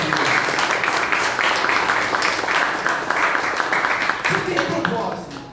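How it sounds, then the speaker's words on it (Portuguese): Congregation clapping for the Lord during a church service, a steady dense round of applause filling the room, with voices mixed in underneath. "Você pode aplaudir o Senhor?"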